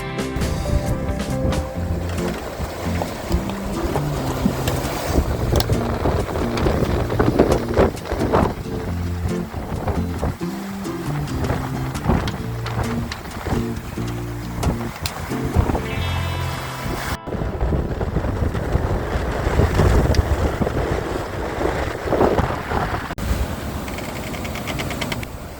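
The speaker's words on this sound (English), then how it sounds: "we settled into some uninterrupted sailing with favourable southwesterly winds" A sailboat making way in a steady southwesterly wind on the open ocean, with continuous rushing wind and water noise and hull wash throughout, loud and close, with no talking.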